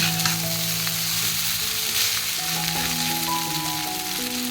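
Chow mein fries in a wok with a loud, dense continuous sizzle, steady throughout and close up, with faint tonal hum underneath and no talking.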